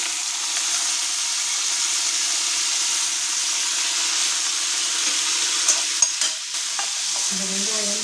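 Ginger, garlic and onion sautéing in a hot pan, a loud continuous hiss with bright sizzle, joined near the end by a few scraping and stirring clatters, with no voices.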